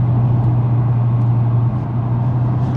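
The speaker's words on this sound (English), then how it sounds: "I'm gonna miss the sound of that turbocharger." Toyota Celica GT-Four turbocharged engine drones steadily and loudly from inside while driving on an open road, a constant low hum holding throughout with no talk.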